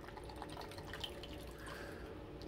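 Water trickles steadily out of the cooling system of a fast electric RC boat, pushed by gravity alone, making a faint, continuous liquid flow with small drips and no talking.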